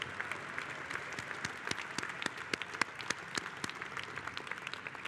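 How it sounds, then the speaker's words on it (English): Convention audience applauding the Defense Fund Oversight Committee at the 80th CWA Convention, steady dense clapping from a large crowd in a hall with scattered sharper individual claps, no speech over it. "Let's give the DFOC a round of applause, please."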